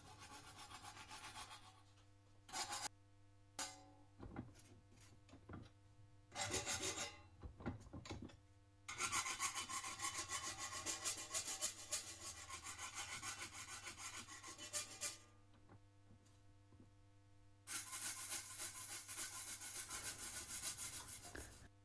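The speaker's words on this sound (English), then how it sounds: "Then I use a file to clean up the edges" A hand file rasps along drilled metal edges to deburr them, in short separate strokes at first and then long sustained bursts of scraping, close and fairly loud with pauses between.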